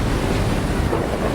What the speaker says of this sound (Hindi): प्रचंड लहरों के आगे इंसान बेबस है।